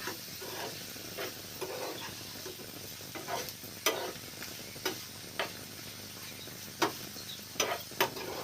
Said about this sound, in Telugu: కాకరకాయ పచ్చిరొయ్యలు ఇది ముక్కలు కొంచెం బాగా వేగనివ్వాలండి